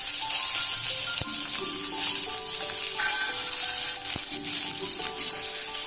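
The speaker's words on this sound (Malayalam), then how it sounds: "ഇനി ഇതിലേക്ക് കുറച്ച് ചെറിയ ഉള്ളി ചേർത്ത് കൊടുക്കാം" Small onions fry in oil in a pan, giving a loud, steady, close sizzle with a faint hum and a couple of sharp clicks.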